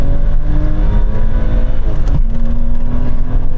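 A BMW M5 accelerates hard in second gear during a rolling drag race from about 30 mph, engine roaring loud and close with a rising tone and a brief shift dip, no talk.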